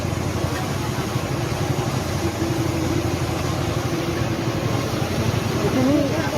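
A distillation machine engine runs steadily throughout, a continuous mid-low mechanical drone with a faint tonal whine, while a person talks over it.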